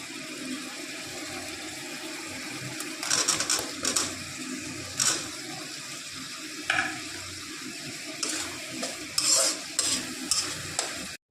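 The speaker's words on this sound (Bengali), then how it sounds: "মোটামুটি ভাজা হয়েই গেছে" Raw jackfruit kofta curry masala fries in oil in a pan, a steady close sizzle broken by repeated scraping stirs of a spatula.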